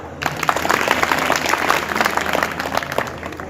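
An audience at a Hindi poetry recital breaks into dense, steady applause that holds loud for several seconds before starting to thin out.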